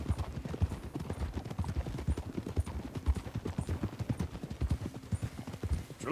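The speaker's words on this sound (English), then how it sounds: "Get a hold of that horse" Horse hooves clip-clop steadily in Red Dead Redemption 2, a brisk, even rhythm of soft hoofbeats at moderate volume under faint background sounds.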